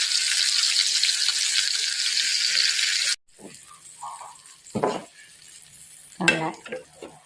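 Jujube (bogori) pickle with chopped chillies sizzles steadily in a hot pan at first, then gives way to a spoon stirring and scraping, with scattered clanks against the metal, close and fairly loud.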